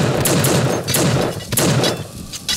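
Rapid gunfire from marksmen in the shooter game TF2, a dense burst of loud overlapping shots and thuds packed close together with no pauses.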